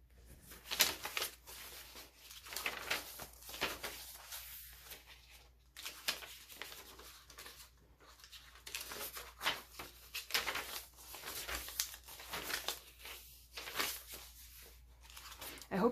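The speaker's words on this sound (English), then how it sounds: "I hope you like the sound of pages turning" Pages of a handmade old-world journal, with antique map paper and stamped sheets, turn and rustle in a quiet room as a series of soft, irregular papery swishes and crinkles.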